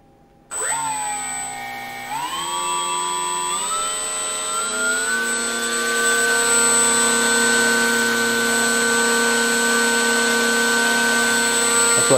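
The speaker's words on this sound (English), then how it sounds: "I've got a heat gun here as well." A heat gun switches on and blows with a loud, steady motor whine that climbs in pitch in a few steps before settling into a constant high drone.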